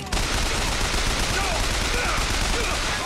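Gunfire in BioShock Infinite, a rapid, continuous stream of shots close and loud for a few seconds, with a voice speaking over the shooting.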